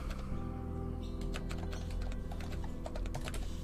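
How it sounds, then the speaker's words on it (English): Keys typed in quick succession on a keyboard while entering a command in the video game SCP The Endurance, the rapid clicks sitting over a loud, steady low hum, with no speech. "you have to type the whole command"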